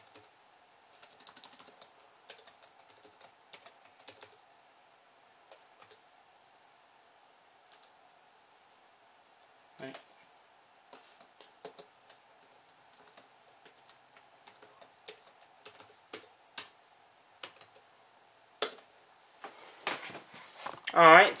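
Typing on the keyboard of an ASUS G74S laptop during setup, scattered close clicky keystrokes in uneven bursts that grow busier toward the end, with faint background hum.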